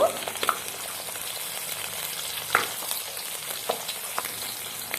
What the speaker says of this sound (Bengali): গরম কড়াই সরিষার তেল দিলাম। নুন হলুদ মাখানো মাছের পিস দিলাম। ভালোভাবে ভেজে নেব।